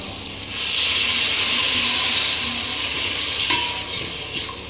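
Hot water poured over fried onions and whole spices in a pot gives a sudden loud sizzling hiss that holds steady for several seconds, then eases slightly, with a few faint clinks near the end.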